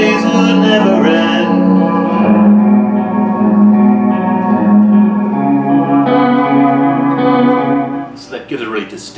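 An electric guitar played through an EarthQuaker Sea Machine chorus pedal gives sustained, shimmering, warbling chords with echoing reverb, loud and continuous for about eight seconds before trailing off.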